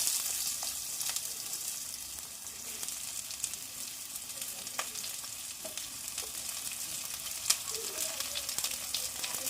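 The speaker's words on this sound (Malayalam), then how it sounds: "വെളിച്ചെണ്ണ ചൂടായി വരുമ്പോൾ ഇതിലേക്ക് സവാള ചെറുതായി അരിഞ്ഞത് ഇട്ട് കൊടുക്കുക." Finely chopped onions fry in hot coconut oil, a dense, even sizzle with scattered crackles and small pops, close and steady, with no one speaking.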